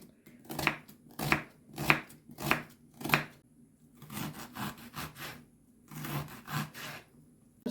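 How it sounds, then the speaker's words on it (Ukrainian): A knife finely chops onion on a cutting board, a steady run of quick close taps, pausing briefly before several more rapid cuts. "так дрібненько порізала цибулю"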